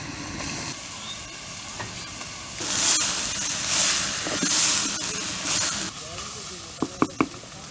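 Teasel gourd (kakrol) frying in a pan, with a steady hiss and louder sizzling surges in the middle as it is stirred, then a few sharp clicks near the end.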